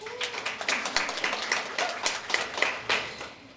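An indoor audience at a publishing and media women's event claps steadily, with dense overlapping hand claps that rise and fall in bursts for a few seconds.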